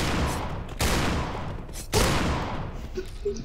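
Sustained rapid gunfire in a first-person shooter match, with loud sharp onsets standing out from a dense, noisy clatter and no talk over it.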